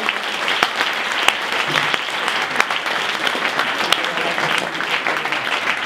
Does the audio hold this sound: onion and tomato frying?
no